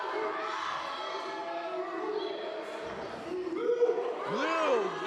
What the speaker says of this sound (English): the crowd trying to intimidate him with the Brody's gonna kill you chance